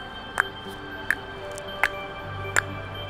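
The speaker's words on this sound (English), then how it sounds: "And sperm whales sound like this." Sperm whale clicks recorded underwater: four sharp, evenly spaced clicks roughly every three quarters of a second over a low, steady ocean hum.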